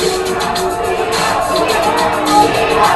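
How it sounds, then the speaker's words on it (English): A wrestling arena crowd chanting for Tina Ferrari: a steady, rhythmic roar of many voices with pulsing chant beats, loud and continuous, a brief swell near the end. "The crowd chanting for Tina"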